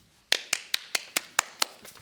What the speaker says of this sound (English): I just wanted to clap.